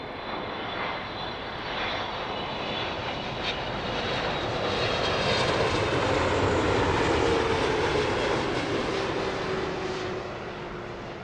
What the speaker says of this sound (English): And the prize for Smokiest touchdown so far, easily taken by the Turkish triple